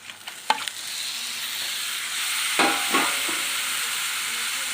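Country chicken (nattu kozhi) for a pepper and coriander-leaf gravy drops into hot oil: a few light clatters, then a loud hissing sizzle swells and holds steady close by, with no talking.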